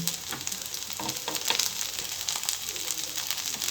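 Moong sprout cutlets frying in a pan give off a dense, steady crackling sizzle with a few soft stirring touches, close and even throughout.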